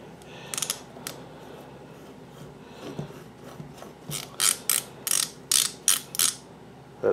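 A 9/16 collet is screwed into a milling machine spindle, producing a series of sharp, close ratcheting clicks. They start sparse, then come in a quicker, louder run of bursts toward the end.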